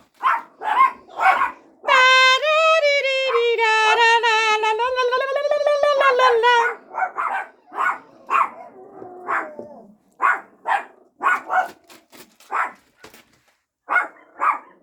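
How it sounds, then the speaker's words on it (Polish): Six-week-old dachshund puppies bark in a close, loud series of sharp, high yips, with a drawn-out wavering whine in the middle, then more scattered rapid yaps. "Żadnej treści w tym szczekaniu nie ma, bo tu nie ma o co w ogóle."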